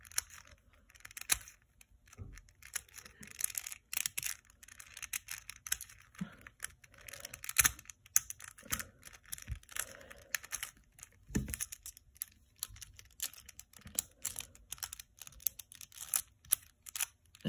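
YJ Floppy Ghost Cube puzzle being turned, giving rapid, irregular plastic clicks and clacks in quick bursts, fairly close and continuous throughout with no talking.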